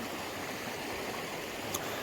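A river flowing fast along a riverbank near Bala, North Wales, gives a steady, dense broadband rush. It sounds close and continuous, with a brief faint bird chirp near the end and no talk.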